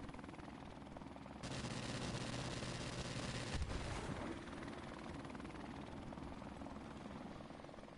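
A helicopter in the video game Call of Duty Modern Warfare Remastered gives a steady droning thrum that grows louder partway through, with bursts of gunfire layered over it around the middle.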